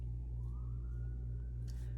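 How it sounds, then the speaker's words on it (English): Ambulance siren rising slowly in pitch over a loud, steady low engine hum, fairly distant and continuous, with no talking. "We got the ambulance going."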